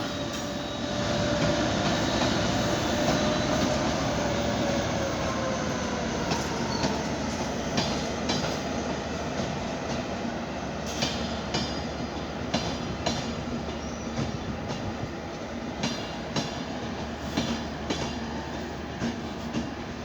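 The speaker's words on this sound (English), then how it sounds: "in the distance you can see trains coming from Malahide, coming from Hout" A DART commuter train runs along a busy Dublin rail line, its steady rumble and rattling wheels filling the scene, with faint squeals and clicks of carriages rolling past at moderate distance.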